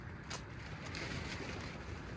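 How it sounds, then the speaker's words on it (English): Steady wind roars and buffets the microphone at a freezing campsite beneath Mt Fuji at night, a continuous broadband rush with a few brief gusty swells. "It's freezing cold and it's windy. As you can hear"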